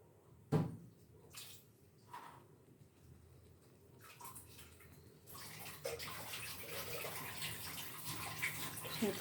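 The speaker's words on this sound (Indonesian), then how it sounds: "Saya kasih air buat dibersihkan dulu." Water poured into a blender jar to rinse out leftover ground spice paste while cooking Serang-style beef soto, a steady rushing pour that builds after a few faint knocks and carries on to the end.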